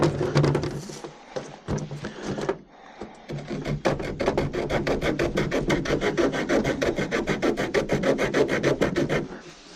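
A Swiss Army Knife Forester's folding saw blade works through wood in steady, rhythmic rasping strokes, loud and close, with a brief pause near the start before the regular back-and-forth sawing resumes.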